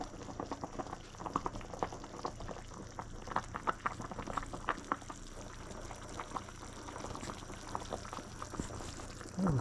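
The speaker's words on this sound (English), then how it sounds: "I'm going to drain this just a little bit, and then I'm going to take the rest of that juice and put in that pot" Chicken soup broth pours from a strainer into a pot as a continuous bubbling, splashing trickle of liquid, close and moderately quiet, with a short louder splash at the end.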